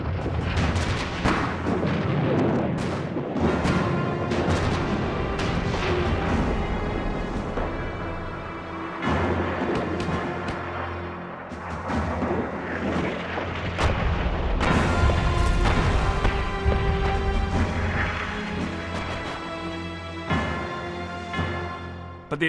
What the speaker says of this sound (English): Over their heads, American guns laid a barrage of shells